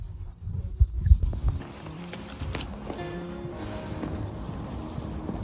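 Horse hooves clip-clop on the ground in a village setting, a few loud, distinct thuds at first that then fade into a steady background hum.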